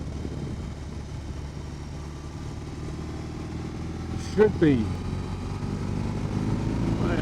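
A 2022 BMW R18 Classic's big air-cooled boxer engine rumbles steadily at low revs, loud and close, with a brief sharper burst midway and someone talking over it.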